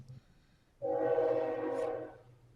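A video-game podcast train sounds its horn as it passes, a loud sustained blare that swells in suddenly, shifts pitch and fades away as it moves off, following a short faint toot at the start.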